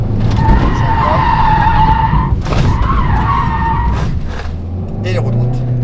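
A rally car skids through a full 360° spin, its tyres giving a loud, sustained screech over a roaring engine. The squeal shifts pitch as the car rotates, then breaks up briefly before returning.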